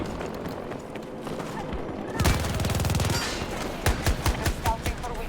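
Bursts of automatic gunfire crack out in a shooter game, a dense rattling volley followed by several separate sharp shots, loud and close.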